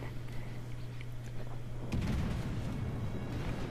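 A warship's rear turrets fire in World of Warships, delivering a single deep booming salvo about halfway through that rolls on as a low rumble over a steady engine hum.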